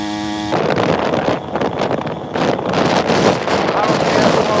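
An engine running hard with the throttle wide open on what sounds like a boat at speed, a dense roaring wash of engine, wind and water noise that stays loud and continuous throughout.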